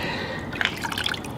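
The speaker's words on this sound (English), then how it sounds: "It's a lot of water coming out though." Water drips and trickles out of two smartphones, an iPhone 7 Plus and a Galaxy S8, after a water test, as close, quick patters over a steady wet hiss.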